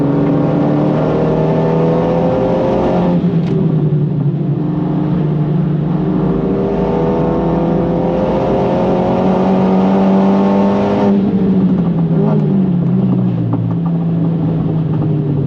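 A 430hp Renault Megane R.S. is driven hard around the Nürburgring. The engine is loud and close throughout, revving up and down through gear changes, with one sharp shift partway through and no voices.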